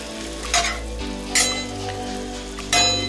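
Food frying in a hot pan on raised heat for a quiche, a steady close sizzle punctuated by three bright metallic clinks or scrapes at roughly one-second intervals.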